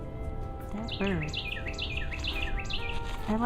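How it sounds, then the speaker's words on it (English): A bird in a garden repeats the same short chirping tweet over and over, moderately near, over a steady background hum with a faint voice at moments. "I like that bird, but in the morning it does that same tweet over and over again"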